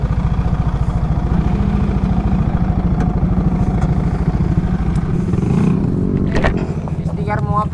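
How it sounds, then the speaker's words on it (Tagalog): A crowd of many motorcycles idles and revs together at a view deck, a steady dense engine rumble throughout, with voices talking over it. "Daming motor mga sir."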